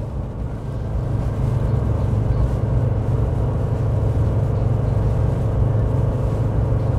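A Chevy 1500 pickup with the 2.7L turbo four-cylinder engine climbs a highway hill at steady speed, giving a continuous loud, low engine and road drone that holds constant throughout with no talking.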